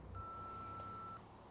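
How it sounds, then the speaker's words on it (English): A single steady electronic answering machine beep holds one pitch for about a second, then cuts off, over a low background hum. "Leave me a message after the beep."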